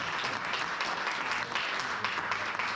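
Dense, steady clapping from a small group in a rap interview booth, loud and continuous throughout with no break.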